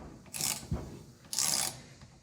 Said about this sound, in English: you just hit this one the other way and kind of wiggle it off, it comes right off